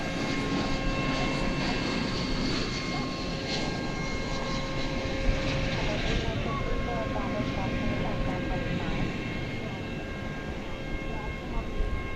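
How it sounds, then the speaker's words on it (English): An American Airlines Airbus A321 arriving from Ontario, California at DFW Airport at night rumbles steadily at moderate distance, a continuous engine drone beneath a faint hum. "From Ontario, California comes American Flight 1820 and Airbus A321."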